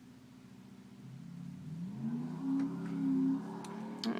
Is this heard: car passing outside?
yes